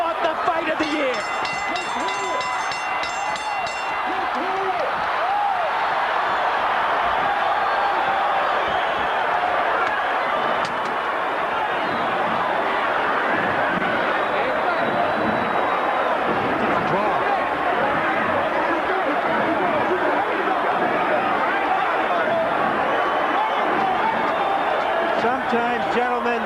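Boxing arena crowd at the Evander Holyfield vs Riddick Bowe rematch rising and cheering, a loud continuous roar of many voices that holds steady throughout.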